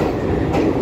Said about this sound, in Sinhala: ඊට කලින් ට්‍රේන් එක ආවා.